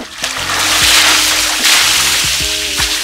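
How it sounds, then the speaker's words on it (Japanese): Well water pouring continuously into the cold plunge bath of a forest barrel sauna in Niigata, a close, loud splashing and gushing with short knocks and sloshes mixed in. "自慢の井戸水かけ流し、どんな感じなんでしょうか。"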